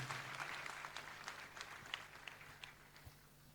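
A church congregation applauds at a moderate distance, a broad wash of clapping with scattered louder claps across the whole stretch, carrying on steadily without voices on top.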